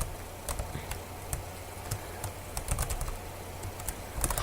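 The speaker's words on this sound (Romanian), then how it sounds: "Nu știu ce apăs ca nebunul pe tastatură, dar nu mă întrebați de ce apăs." Frantic, irregular key presses on a computer keyboard clatter at moderate volume, bursts of rapid clicks scattered over a steady low background hum, with no voices.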